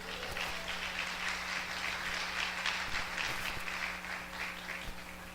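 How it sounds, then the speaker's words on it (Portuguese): A church congregation applauding during a sermon, a soft, steady patter of many hands clapping at a distance, fairly faint and continuous. "Quem pode glorificar o Senhor com a salva de palmas?"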